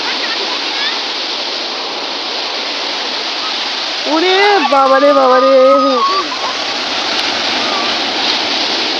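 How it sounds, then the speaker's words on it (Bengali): Big sea waves crash continuously at Digha beach, a loud broad roar of surf close by, while a person exclaims excitedly partway through. "হেভি ঢেউ নিচ্ছে, দেখেন কি বড় বড় ঢেউগুলো নিচ্ছে দেখেন"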